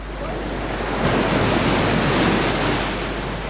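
Sea waves and wind beat against the Min, an ancient Egyptian-style sailing ship out on open water, making a loud, steady wash of broadband rushing noise that swells a little midway and holds throughout.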